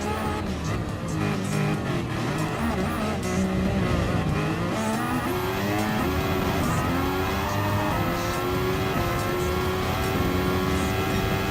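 A Mercedes-AMG race car in Gran Turismo Sport roars steadily down a long straight, its engine note climbing through the gears with repeated rising sweeps, loud and continuous with no talk.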